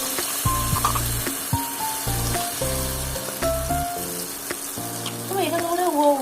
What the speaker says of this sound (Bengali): সুন্দর করে ভেজে নেব। ভালো করে ভেজে নিতে হবে।